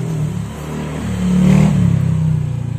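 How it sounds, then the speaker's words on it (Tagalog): A motorcycle passes along a street nearby, its engine droning and rising to a louder peak midway before easing slightly, a continuous mid-pitched rumble with no talk. "May dumaan ang motor."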